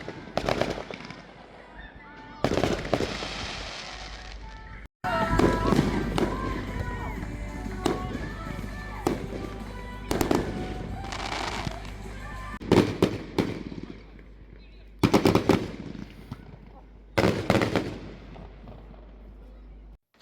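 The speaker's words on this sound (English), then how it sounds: "The firework display started while I was doing my walk around, and it was a really impressive display" Fireworks burst over a football ground during a Central Midlands League match at Ollerton Town, heard from the stands: loud, booming explosions come in clusters with crackling trails and sharp gaps between volleys.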